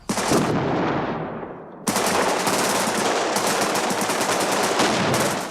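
Gunfire aimed at a giant robot in a classic Doctor Who scene, heard as loud, dense rapid bursts like a machine gun that continue almost without a break.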